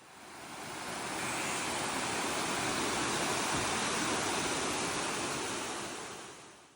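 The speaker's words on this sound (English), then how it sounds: "Slowly walking here with the view of the waterfall feels like stepping inside a" Waterfall at High Falls State Park, a constant broad roar of falling water that swells in and fades out, with no voices.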